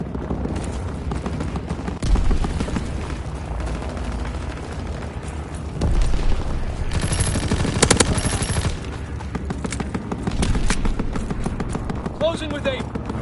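Rapid bursts of turret gunfire in a video game crackle in clusters, loud and close, with stretches of heavier sustained firing and faint game sounds between volleys.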